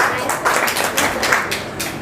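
Students in a classroom clap for a chief guest, a steady patter of many hands at moderate distance, continuous for a couple of seconds with no voices over it.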